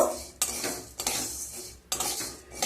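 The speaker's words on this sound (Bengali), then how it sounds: "প্রথমে কড়াইতে বিউলির ডাল দিয়ে দেব। বিউলির ডাল দিয়ে প্রায় 5 মিনিট পর্যন্ত ডালটাকে ভেজে নেব।" Urad dal (biulir dal) dry-roasting in a wok, with a spatula scraping and stirring in repeated sweeping strokes, dry rattling grains and metal-on-metal scrapes recurring roughly every second, close and fairly loud, no talking.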